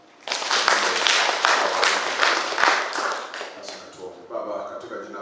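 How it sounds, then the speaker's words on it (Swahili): A church congregation at a Sunday service breaks into applause, a burst of many hands clapping that starts suddenly, stays loud for a few seconds and then fades as talk resumes. "tuwapigie makofi."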